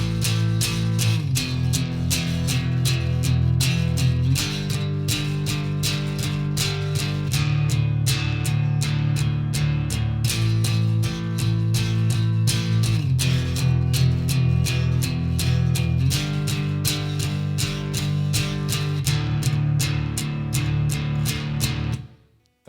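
Guitar strums a four-chord progression, each chord struck eight times in a steady, even rhythm, loud and close with no talk, ringing to a stop at the end.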